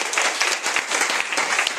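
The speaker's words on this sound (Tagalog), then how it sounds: "Yan ba ang malakas na palakpak nyo para sa Panginoon?" Loud, sustained applause from a church congregation clapping for the Lord, many hands beating in a thick, even roar that swells slightly in places.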